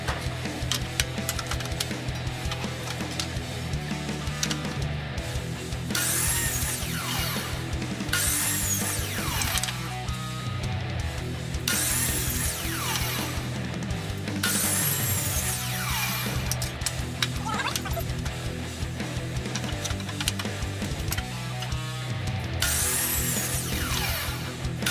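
Power saw cutting a chunk of pallet firewood, sized for beer-mug staves: steady loud motor whine with repeated bursts of bright cutting noise as the blade bites through wood, no talk.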